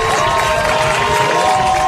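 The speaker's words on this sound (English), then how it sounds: "the crowd is coming alive to cheer on its defense" A high school football crowd at a conference championship game roars loudly and without a break as it cheers on its defense, a dense, sustained wall of shouting and cheering.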